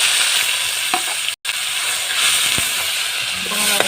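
A loud, dense sizzle of onion, ginger and chili paste frying in hot oil fills the whole stretch, with a few faint clinks and a brief break in the sound.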